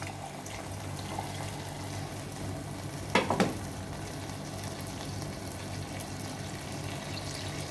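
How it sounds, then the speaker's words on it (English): Tamarind water is poured into tomato rasam in a cooking pot, a brief splash and trickle standing out against a low, steady simmer, close and with no talk. "I am adding the tamarind water."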